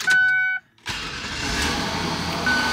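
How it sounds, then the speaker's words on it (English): A Ford F-250 Amarillo Edition truck engine cranks briefly under a whining tone, then catches and settles into a loud, rough idle close by. "This thing just fired right up."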